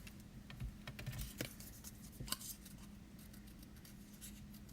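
Small paper pieces being fussy cut by hand with scissors, light snipping and rustling clicks close up and fairly quiet, with no voices.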